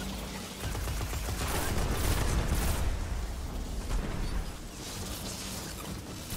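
Pulse rifle gunfire in Destiny during Taken King combat, a dense, loud barrage of rapid shots and booming impacts blurring into continuous fire, easing slightly toward the end.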